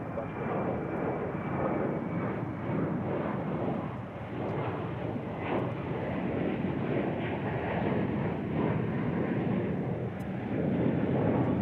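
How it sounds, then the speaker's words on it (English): American Airlines Airbus A321 passing at DFW airport, a moderately distant, broad engine roar that rises and falls gently throughout, with no voices. "That was American Flight 1939. It's going to San Diego, California, in Airbus A321."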